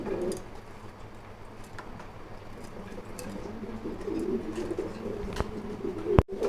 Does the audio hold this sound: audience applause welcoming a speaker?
no